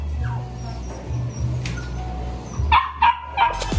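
A small dog barks at the gate of a cat cafe in Taipei, giving a few short, close yaps near the end over a low steady background hum.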